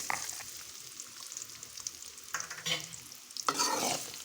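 Chopped onion goes into hot oil with half-fried seasoning seeds for a crispy karela fry, a quiet sizzle punctuated by a few louder scraping stirs near the end, with no talk.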